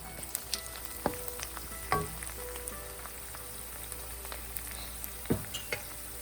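Onions frying in a pan for chicken tikka masala, a close steady sizzle with scattered pops and a few louder stirring clacks, no talking.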